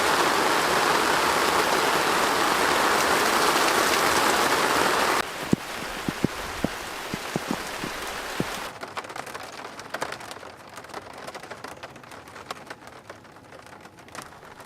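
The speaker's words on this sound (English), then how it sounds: "This is the most rain we've encountered in a long time." Heavy rain pours in a dense, loud roar, then abruptly drops to scattered sharp drips and lighter patter on a surface, car camping on a tiny island in Alaska.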